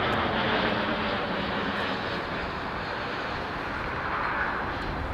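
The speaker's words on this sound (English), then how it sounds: "You'll notice that the airplanes are virtually overhead, almost exactly overhead right here." An airplane passes almost directly overhead near downtown San Jose, west of Highway 87, producing a loud, continuous broadband engine roar that holds steady for the whole stretch with no talking.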